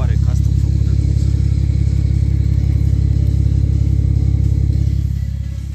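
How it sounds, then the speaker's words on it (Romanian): Custom-exhaust car making roughly 370 horsepower and 600 Nm rumbles loudly and steadily at high revs for several seconds, easing off slightly at the end, with talk faintly mixed in. "Evacuare custom făcută de mine."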